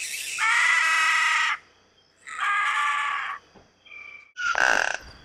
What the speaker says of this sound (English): Apparently these are parrots going insane.